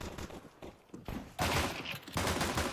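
Rapid gunfire from dual pistols in the mobile shooter PUBG Mobile, during a tournament match: dense, crackling volleys of shots, fairly loud, in two sustained bursts after a quieter stretch, with no talk.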